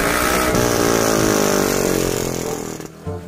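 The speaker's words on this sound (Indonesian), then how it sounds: "bocah kagak kira-kira ya naik motor malam-malam" A motorcycle engine roars loud and close, speeding past at night with a steady buzzing drone that fades toward the end.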